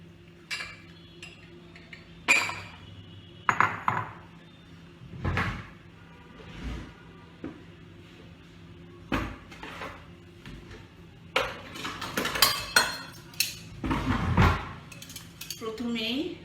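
Bowls and dishes clatter and clink in a home kitchen, with a dozen or so sharp knocks and scrapes spread unevenly, some louder, close by and with no one talking.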